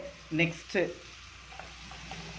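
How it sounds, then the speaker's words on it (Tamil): Onions sauté lightly in a pan with a soft, steady sizzle, quiet and close, broken early by a brief murmur of a voice. "இந்த ஆனியன் கொஞ்சம் லைட்டாக வதங்கினா போதும் ஃப்ரெண்ட்ஸ்."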